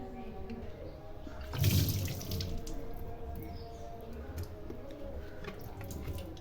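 Water splashes and sloshes as a flask is rinsed after brushing, with a brief louder gush early on and then soft trickling and dripping, close by and fairly quiet.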